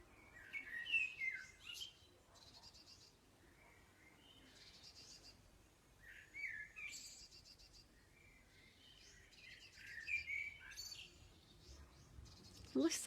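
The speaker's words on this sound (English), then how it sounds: "And we can listen to the birdies." Birds sing in a small home garden, with bright chirps and short warbling phrases in repeated bursts over quiet background noise, some calls close and clear, others softer.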